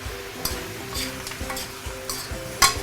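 Seasoning sizzles and crackles in a hot pan for a pork leg stew, with a steady frying hiss broken by repeated stirring scrapes and light clinks of a utensil against the pan.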